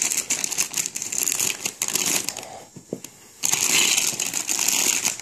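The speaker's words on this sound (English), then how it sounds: "Daddy's got scissors here. So he's going to open one up for you." Scissors cut open plastic Lego packaging close by, with crinkling and rustling of the wrapper in irregular bursts, a short quieter pause, then louder crackling.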